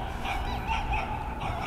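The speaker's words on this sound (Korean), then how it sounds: "걔가 이렇게 짖네요" A dog barks in a few rough, honking bursts nearby, fairly loud and with no speech.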